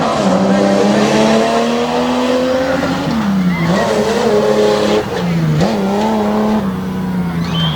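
A race truck in a Renegade MTT mud-track event in Abbottstown, PA, roaring loudly at full throttle as it speeds across the finish line, engine pitch rising and dipping with gear changes, close and continuous.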